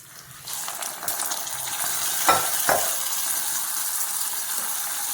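Hot tempering for curd vada tipped into a bowl of beaten yogurt with green chilies and ginger, a close sizzle and wet splash with a couple of sharp crackles.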